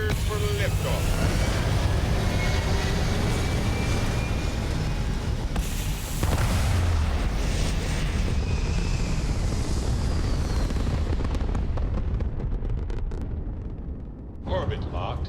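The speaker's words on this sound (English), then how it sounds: "We're cleared for liftoff." A spaceship in the Starfield game lifts off with a deep, sustained roaring rumble that holds loud for several seconds, then thins and fades toward the end.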